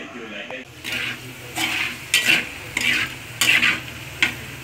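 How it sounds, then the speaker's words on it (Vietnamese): Sea bass fillets frying with garlic in a hot pan give a steady sizzle, broken by several louder bursts as a utensil stirs and turns the fish; a voice talks faintly underneath. "Cái này mình chiên sơ thôi cho nó săn cái cá lên đó các bạn"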